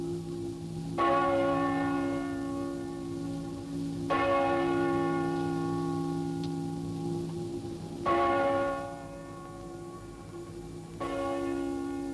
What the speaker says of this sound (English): The bell's ringing! The bell's ringing!